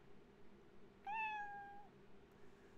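A cat in the video game Another Eden lets out a single drawn-out meow, clear and steady, standing alone over a quiet background hum.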